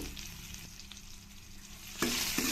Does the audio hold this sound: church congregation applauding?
no